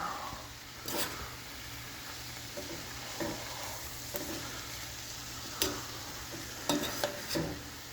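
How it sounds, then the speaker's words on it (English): Fiesta chicken frying in a pan, a soft steady sizzle under repeated spoon scrapes and stirring clinks, fairly faint and close with no voices. "And stir."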